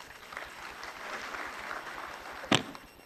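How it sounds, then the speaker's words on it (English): Audience applause welcoming a speaker at a government seminar, a moderate spread of clapping from a seated crowd with one loud, sharp knock or clap close by near the end. "Let's welcome sir with a round of applause."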